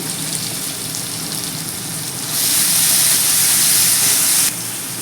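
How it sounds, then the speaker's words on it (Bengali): Masala spices with green chillies fry in oil for dal fry, giving a continuous crackling sizzle that jumps noticeably louder for a couple of seconds before easing back, close and with no talk. "সব দিয়ে একসাথে মশলাটাকে এবার কষবো যতক্ষণ পর্যন্ত না মশলাটা থেকে তেল ছাড়ে"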